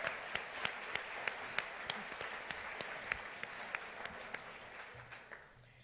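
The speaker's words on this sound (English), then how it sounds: "let's give them a round of applause to thank them" A sparse audience at a Google search office event gives a round of thanks, with scattered individual claps standing out above a softer, fairly quiet wash of applause that gradually fades.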